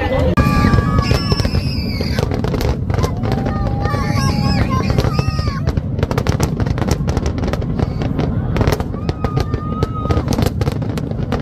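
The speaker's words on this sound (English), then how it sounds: "That's the firework right there." Fireworks bursting at the Detroit Ford fireworks show in 2024, a dense, continuous crackle of pops and booms with horn honks and crowd voices mixed in throughout.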